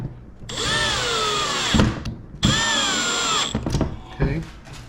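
A power drill drives screws through pilot holes into a ready-to-assemble lazy Susan kitchen cabinet, giving two long, close whining bursts with rising pitch, separated by a short pause, then a few brief clicks and knocks.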